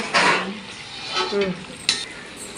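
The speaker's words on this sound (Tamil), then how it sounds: "பொறுமையாக கலந்துருங்க." Gentle scraping and clinking of a spoon stirring soft fish thokku in a pan, a few slow strokes with a faint sizzle underneath, close and moderately loud.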